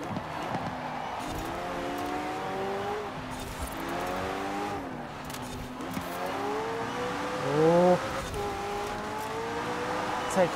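McLaren 600LT engine in Forza Horizon 4 revving up toward redline, rising and falling tones climbing repeatedly as gears change, steady and loud, with brief tire noise and no talking.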